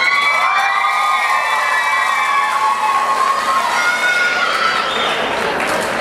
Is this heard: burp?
no